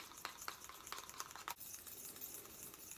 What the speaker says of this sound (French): Allez, on remue.